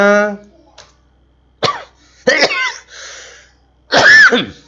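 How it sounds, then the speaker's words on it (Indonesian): Someone close by coughs a few times, sharp loud bursts with pauses between them, following a brief bit of speech. "sorry saya batuk"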